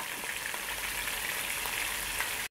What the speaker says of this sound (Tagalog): Ipiprito muna natin yung isda.